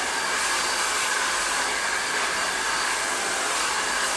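A hair dryer blows warm air steadily and loudly at close range while hair is styled with a round brush, a constant broadband whoosh with a faint whine and no pauses.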